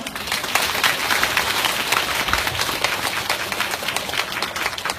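Loud, dense applause from a large crowd at a company event, thanking the general manager, steady and continuous throughout with no talking.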